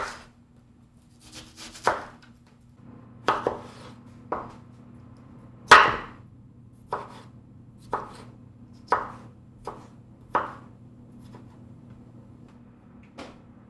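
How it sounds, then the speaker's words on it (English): Knife chopping onions very finely on a cutting board, about a dozen crisp, separate knocks at an uneven, unhurried pace over a low steady background hum, close and clear, with no talking. "So the onions I chop very finely"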